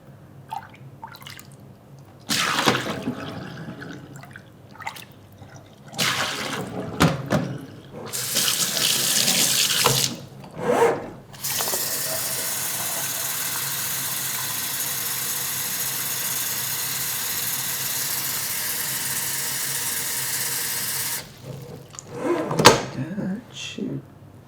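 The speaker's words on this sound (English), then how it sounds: "Maybe I should just put some cold water in there" Cold water running from a tap into a fish tank being cleaned, long steady hissing pours broken by short splashes and clunks, close and loud.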